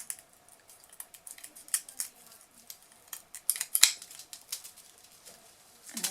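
Scissors snip through the end of a strip of sinamay millinery fabric for a fascinator, a run of small crisp cuts and rustles, close and quiet, with no voices.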